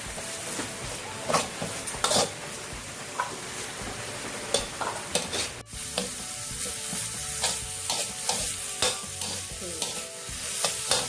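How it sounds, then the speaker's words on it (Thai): Onion and carrot are stir-fried in leftover oil for shrimp fried rice, with a continuous loud sizzle and frequent spatula scrapes and clacks against the pan. The rhythm is uneven and close. "แครอทที่เราเตรียมไว้ค่ะ ลงไปผัดให้พอสุก"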